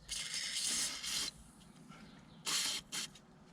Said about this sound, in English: just make sure we give that a little squirt